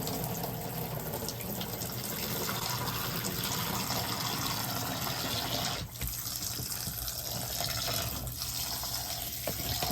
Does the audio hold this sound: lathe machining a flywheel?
no